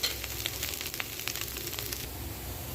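Taro (chamadumpa) pieces fry in hot oil in a pan, giving a dense, continuous sizzle with scraping, clicking stirs scattered through it.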